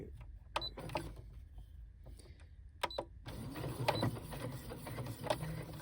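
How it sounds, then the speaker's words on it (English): A sewing machine stitching shirring elastic starts with a few faint mechanical clicks and then runs in a soft, continuous close-up whir. "I'm going to start stitching now"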